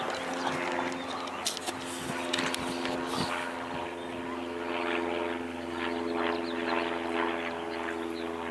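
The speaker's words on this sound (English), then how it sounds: "A plane?" A propeller airplane drones overhead, a steady mid-loud engine hum held throughout with faint rustling and clicks nearby.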